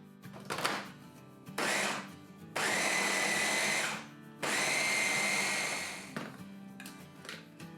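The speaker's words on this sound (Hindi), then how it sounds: "इसको ग्राइंड कर लेंगे।" A kitchen grinder whirs through a soya keema marinade with green chili and coriander, running in several pulses of two to three seconds each, separated by brief pauses, close and moderately loud.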